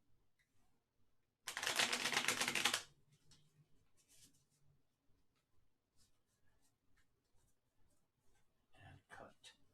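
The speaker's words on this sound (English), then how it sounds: "So I'm going to just do a very quick cursory shuffle." Tarot cards being shuffled in one brief, loud burst of rapid riffling, followed by quiet with faint handling clicks and rustles.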